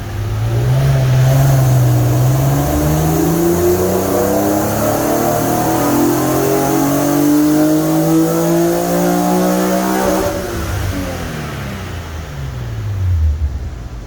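A car's engine revs hard through a full acceleration pull on Boostane octane booster, pitch climbing steadily for about ten seconds before dropping off and settling back, loud and close with no talking.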